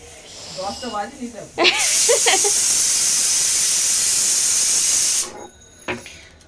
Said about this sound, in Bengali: তোর ঘরে কি এটা কি ভাত বসেছি এখন? হ্যাঁ রে, একটু সিদ্ধ ভাত বসিয়েছি।